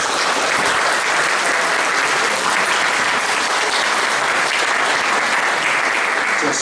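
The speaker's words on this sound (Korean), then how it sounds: "김명희 다시 한번 박수를 보내주시기 바랍니다." Sustained, loud audience applause at a book launch celebration, a thick unbroken wash of many hands clapping at steady volume from start to finish.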